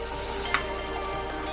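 Potatoes roasting in a pan for sabudana khichdi give a steady soft sizzle, with a faint scrape of stirring partway through.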